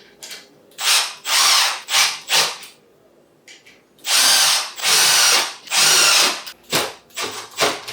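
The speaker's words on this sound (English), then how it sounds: "take your multi-tool or your drill and just tighten them all." A power drill whirs in repeated short bursts, several quick pulses, a pause, then more bursts, loud and close like screws being driven.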